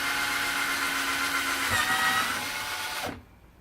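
A power drill whines steadily while boring into a filter box, a loud continuous motor drone that holds for about three seconds and then cuts off abruptly into near silence.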